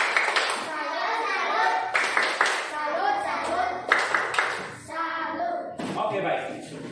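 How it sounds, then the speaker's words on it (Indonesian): A class of standing children claps out a rhythmic salute clap, each sharp burst of hands cracking through amid steady chatter and an adult voice talking over it. "Kita sekali kita tepuk salut untuk kelompok 1 dulu."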